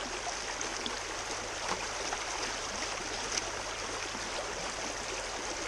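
Stream water rushes steadily through a Gold Hog flow pan set in a creek during gold prospecting, a constant broadband wash with faint splashes and no speech.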